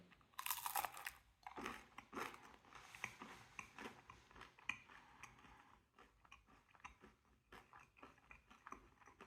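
A chilli biscuit cracker made with super hot chilli peppers being bitten and chewed, with a sharp crunch at the start followed by softer, irregular chewing crackles, close and quiet.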